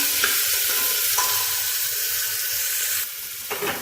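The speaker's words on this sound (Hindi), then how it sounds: "और अब हम इसमें डालेंगे अदरक लहसुन का पेस्ट। 2 सेकंड के लिए इसको हम सौते करेंगे।" Loud, continuous sizzling of ginger-garlic paste frying in a hot pan, with occasional scraping stirs and a brief shift in tone toward the end.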